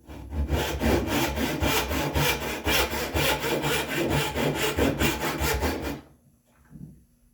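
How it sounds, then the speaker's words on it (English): A dovetail saw making a rip cut through wood for spice rack shelf joinery, a rapid, even back-and-forth rasping stroke rhythm, loud and close, stopping abruptly near the end. "I'm going to switch back to my dovetail saw, because we're doing a rip cut here."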